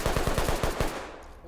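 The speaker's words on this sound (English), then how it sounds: "Oh, who's shooting?" Rapid automatic gunfire in a first-person shooter video game, a burst of about seven evenly spaced loud shots that then trails off into quieter ambient noise.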